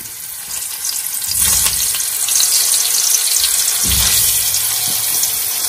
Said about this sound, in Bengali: এবার এই তেলটার মধ্যে আমি আলুটাকে ফার্স্টে ভেজে নেব